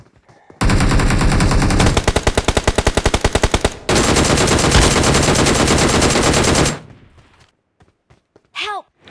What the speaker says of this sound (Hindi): अजय तो ऐसे भाग रहे थे ऐसे गोली चला रहे थे जैसे हम अली खत्म कर देंगे